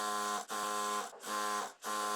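A sewing machine stitches a trouser seam in a steady, close, continuous whir, broken by brief pauses into three short runs, with no talk.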